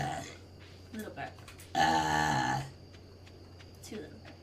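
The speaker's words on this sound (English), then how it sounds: "Two little burps." A woman lets out a short, fairly loud burp during a streamed chat, with a fainter vocal sound just before it amid quiet background talk.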